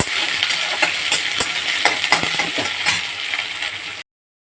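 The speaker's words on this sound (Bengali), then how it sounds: "শুকনো কালো জিরে, পেঁয়াজ, রসুন কুচি আর কাঁচা লঙ্কা, এটা আমি ভালো করে ভেজে নেব" A steady sizzle of dried black cumin, chopped onion, garlic and green chilli frying in a hot pan, with occasional scrapes and taps of a spoon stirring.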